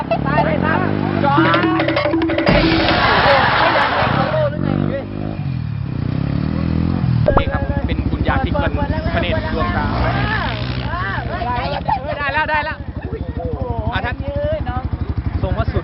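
A dirt bike rides around a motocross track with jumps, its engine droning and revving steadily throughout, close by, while people talk and shout over it.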